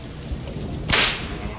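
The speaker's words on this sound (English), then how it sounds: "That was a loud snap." A single sharp whip crack in the House of 1000 Doors video game bursts out loud and bright, standing clearly above a low ambient game background.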